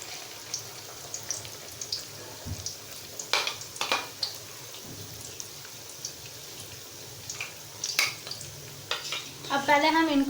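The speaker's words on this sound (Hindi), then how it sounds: "अब पहले हम इनको फ्राई कर लेते हैं" Chicken pieces for Dhaka chicken fry in a pan with a steady low sizzle, broken by spoon clinks and crackles, quiet and close throughout.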